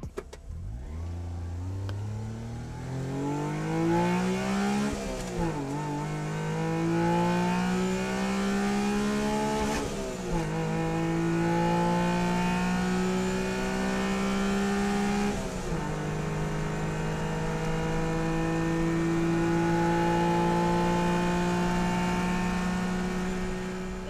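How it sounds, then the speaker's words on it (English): A Honda Beat's small engine revs up repeatedly, pitch climbing through the gears in three long pulls, loud and close with a buzzy, high-revving tone. "the Honda Beat"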